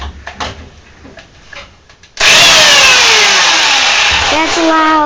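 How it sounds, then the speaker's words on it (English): During a home repair job a chainsaw roars to life after quiet shuffling and a brief voice, then runs loud and steady while cutting, its engine pitch dipping and rising under load. "I'll use the chainsaw to try to chainsaw it off"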